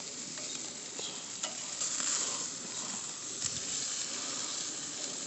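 Hamburger patties sizzling on a grill, a steady close hiss and crackle with occasional faint scrapes and pops, continuous for several seconds without talking.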